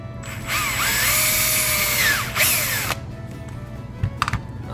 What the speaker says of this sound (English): Drill a hole through that little cover plate.